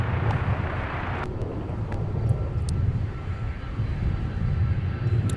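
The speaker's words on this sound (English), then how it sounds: "Our A300 is not the only heavy to taxi on Mike." An Airbus A300 heavy jet taxiing on taxiway Mike at a busy airport gives a steady, broad engine rumble at a moderate distance, with wind noise over the microphone throughout.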